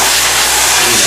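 A steam cleaner with its brush removed blasts steam from the bare nozzle in a loud, continuous, close-up hiss.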